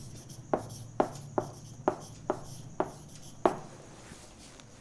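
Writing an answer during a maths lesson: a string of about seven crisp, evenly spaced taps or strokes, close and fairly quiet, each decaying quickly over a faint background hum.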